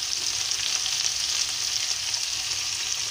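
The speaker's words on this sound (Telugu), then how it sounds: "చూడండి, చిక్కుడుకాయలు వేగుతూ ఉన్నాయి కదా." Broad beans (chikkudukaya) fry in a home-kitchen pan with a steady, close sizzle and crackle that holds evenly throughout, with no talking.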